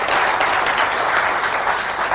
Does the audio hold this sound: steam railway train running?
no